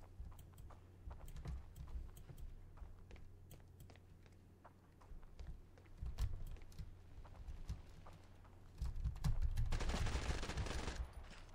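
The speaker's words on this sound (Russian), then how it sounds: "Калашников." A Kalashnikov rifle fires in the mobile shooter Standoff 2, with sharp single shots and short bursts at an irregular pace, and a louder burst of fire near the end.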